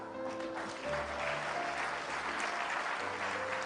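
A church congregation applauds during a sermon, a steady wash of clapping from many hands heard through a distant, somewhat muffled sound with a low hum underneath.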